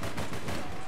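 Dense, loud bursts of gunfire fill the second in the video game APB Reloaded, rapid overlapping shots with a booming low end, no clear voices.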